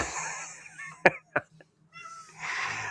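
A pet cat meows a couple of times in short bursts, close and fairly loud, with quieter stretches of room noise around them and a soft background hum.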